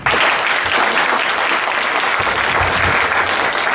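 Loud, dense audience applause for maestro Herótides Rodríguez at a journalists' 50th-anniversary tribute ceremony, starting abruptly and holding at a steady roar throughout.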